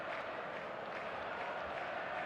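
Stadium crowd in the eFootball Mobile soccer game, a dense, steady wash of cheering and applause-like noise at moderate level, unbroken and without distinct voices standing out.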